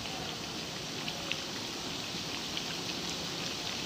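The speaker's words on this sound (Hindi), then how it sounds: "ये देखिए, माशाल्लाह से कितने अच्छे फ्राई हो रहे हैं।" Chicken cheese bread triangles deep frying in hot oil give a steady, even hiss of dense bubbling and crackle that runs unbroken and close throughout, with no talking.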